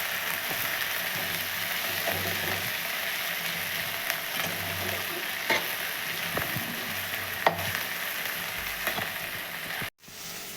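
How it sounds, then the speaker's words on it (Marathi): Green chillies frying in oil in a pan for okra bhaji, a steady close sizzle running throughout with occasional stirring clicks and scrapes. "आता मी ती मिरची टाकणार आहे मिरची थोडी परतून घेणार आहे"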